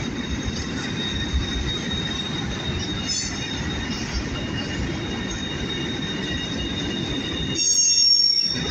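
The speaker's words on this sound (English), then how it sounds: "Oh, they got a train." A train rolls past steadily in El Paso, Texas, with high, sustained wheel squeals ringing over the rumble, briefly louder and sharper near the end.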